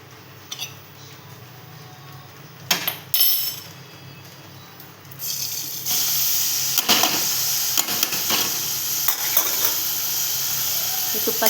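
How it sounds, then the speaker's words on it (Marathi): Barnyard millet (bhagar) frying and being stirred in hot ghee for a fasting barfi, with scattered spoon clinks early on, then a steady, fairly loud sizzle from about six seconds onward. "हे तुपात चांगले परतवून घेऊया."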